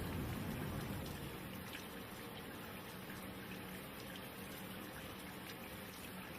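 Tap water runs steadily during a surgical hand scrub, a continuous soft rushing hiss with no pauses or talking, fairly quiet throughout.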